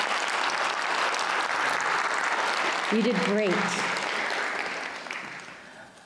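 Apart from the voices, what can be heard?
audience applause for Izzy and Aiden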